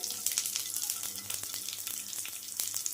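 Green chillies slit and dropped into hot oil in a pan crackle and sizzle loudly and steadily, with sharp spitting pops on top of a continuous frying hiss.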